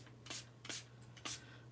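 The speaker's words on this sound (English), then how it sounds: "So we're gonna spritz this" Spray bottle misting shimmer spray onto a piece of framed art, three short hissing spritzes spaced about half a second apart, close and fairly soft over a steady low hum.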